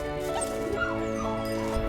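A dog yips and whimpers in short bursts over a steady, tonal background hum.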